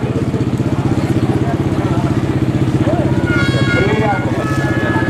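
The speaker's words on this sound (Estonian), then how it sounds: "Käi raja peale, mootorrattasid käima." Motorcycle engines rumble steadily on a race track at Kiviõli, a loud continuous throbbing with revving rising near the end, while a commentator talks over it.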